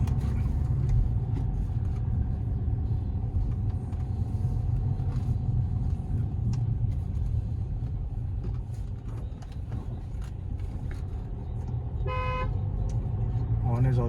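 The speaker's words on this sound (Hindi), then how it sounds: "मर्सिडीज के ऑन वैसे अच्छे ही होते हैं, लाउड भी है बहुत है ये" A Mercedes CLA 200d sedan sounds one short, loud horn toot near the end, over a steady low engine and road rumble heard from inside the moving car.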